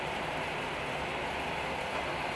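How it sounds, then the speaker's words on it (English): A night train runs through northern Sweden, heard as a dense, steady rumble with an even rolling roar and no distinct clacks, fairly quiet, with no voices. "I went on my first night train"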